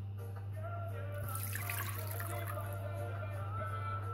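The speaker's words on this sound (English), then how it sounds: "So now the stock cube with water in there. I'm gonna pour this in here." Stock cube dissolved in water poured into a cooking pan, a soft continuous splashing and trickling pour that swells in the middle, fairly quiet over a steady background hum.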